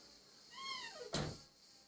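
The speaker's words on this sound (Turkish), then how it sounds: "Kapı sesi duydunuz mu?" A door shuts indoors with a single soft, muffled thud, just after a short rising-and-falling squeak, all faint against a quiet room.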